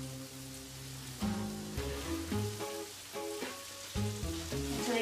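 Hot dog buns toast on a greasy grill with a steady low sizzle, while a louder tonal melody with sustained notes plays over it.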